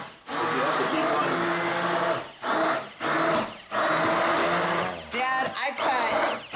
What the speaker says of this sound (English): I'll put it in a blender, half of it in a blender